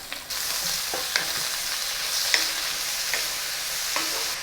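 Thinly sliced onions and curry leaves fry in a pan for a beef curry, giving a steady close sizzle with a few soft stirring clicks and scrapes; no one talks.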